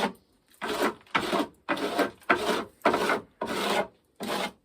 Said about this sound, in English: I just kind of scrape the top of the boxes off.